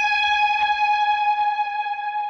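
An electric guitar rings out one sustained note through a fast chorus effect set to wobble like vibrato, steady and fairly soft, with no other instruments.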